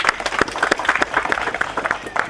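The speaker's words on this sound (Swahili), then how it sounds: "Tujipigie makofi." Audience at a school prize-giving ceremony claps together, a lively spread of hand claps close by, with some faint voices among them.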